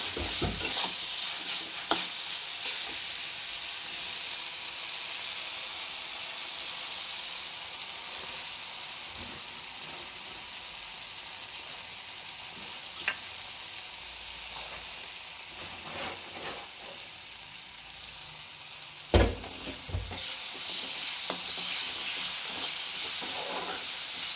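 Steady hissing sizzle of spices frying in a pan for a fish curry, with occasional scrapes and knocks of a spoon stirring, continuous and fairly close.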